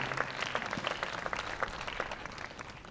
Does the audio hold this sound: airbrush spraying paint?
no